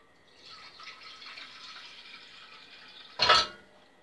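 A metal saucepan is set down or knocked with a single loud clank near the end, after a few seconds of faint running water and handling sounds in a home kitchen.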